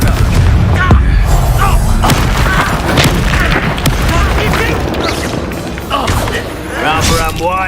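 Incendio fire spell blasts in the Hogwarts Legacy video game boom heavily in quick succession, loud and close, over dense game effects, with a voice shouting over the blasts.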